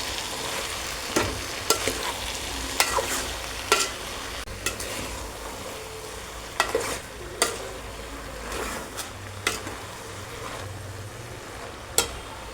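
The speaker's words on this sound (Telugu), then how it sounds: "కొంచెం కొత్తిమీర వేసుకోవాలి. వేసుకొని కలుపుకోవాలన్నమాట." Broad bean (chikkudikaya) curry with coriander leaves is stirred in a pan over the heat, metal spoon clinks and scrapes recurring over a soft continuous sizzle, close by.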